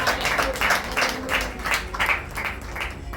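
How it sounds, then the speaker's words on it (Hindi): Church congregation clapping hands together in a steady rhythm of roughly two claps per second, moderately loud and close, with no talking over it. "ताली बजा के ऐसे।"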